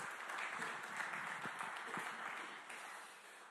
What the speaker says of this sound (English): And let's hear a round of applause for Tom.